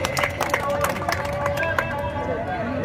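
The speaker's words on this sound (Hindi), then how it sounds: "जोरदार तालियां, जोरदार तालियां।" Applause and cheering from a crowd at a cricket tournament prize distribution, a dense patter of clapping under a loud announcer's voice.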